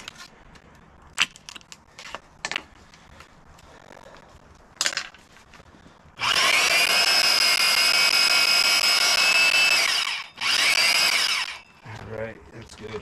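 A power pipe threader cuts threads on black steel pipe, first with scattered metallic clicks and knocks, then a loud, sustained whirring grind for several seconds that stops briefly and starts again.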